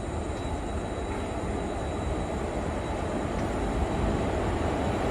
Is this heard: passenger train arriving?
yes